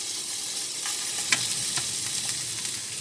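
Meat sears in a hot pan with a close, steady sizzle, broken by a few brief scraping and stirring clicks.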